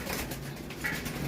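Pigeons coo softly at a racing loft as birds return home, a steady low murmur of cooing throughout with no talk.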